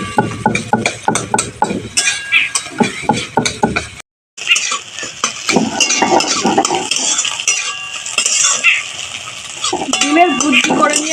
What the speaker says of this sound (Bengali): রসুনটা আমি একটু বেটে নেব।